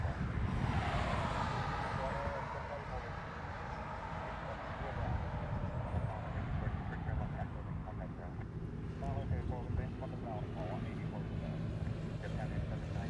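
Japan Airlines Airbus A380 on final approach into Honolulu, a broad distant jet roar with a low engine whine, steady throughout while people talk nearby.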